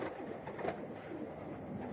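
Pigeons coo softly and steadily under a broad, dense wash of bird noise from a flock of young pigeons kept in a loft, with no talk.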